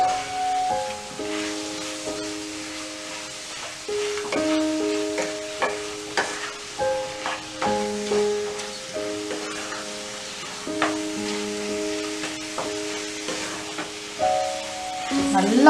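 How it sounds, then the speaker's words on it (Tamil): Ground roasted masala powder is stirred into chicken in a frying pan for black pepper chicken roast, with soft repeated scraping and a gentle sizzle beneath background music. "இப்போ வந்து இதை ரெண்டையும் வந்து நல்லா வந்து சிக்கனோட நல்லா கலந்து விட்டுறலாம்"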